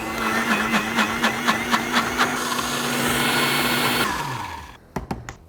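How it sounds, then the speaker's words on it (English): A blender whirs steadily as it purées an olive oil mixture, a rattling pulsing motor drone running for about four seconds before cutting off, followed by a few clinks. "I'm gonna put this in my blender"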